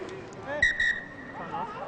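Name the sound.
referee's whistle at a rugby match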